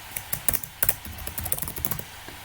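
Rapid keystrokes clatter on a laptop keyboard as a username and password are entered, a close, irregular burst of taps and clicks lasting a couple of seconds with no talking.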